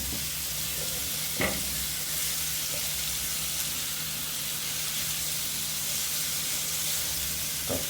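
Turbot or triggerfish and crackers sauté in a pan, a constant loud sizzle and hiss throughout, broken by a couple of short scraping knocks as a spatula tosses them around.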